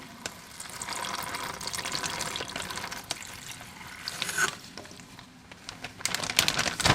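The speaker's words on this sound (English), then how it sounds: "I'm going to put this marinade into this bag" Marinade poured into a resealable plastic bag holding strips of flank steak for fajitas, a soft liquid pour with plastic crinkles and rustles, close and moderately loud, ending with a few sharper handling noises.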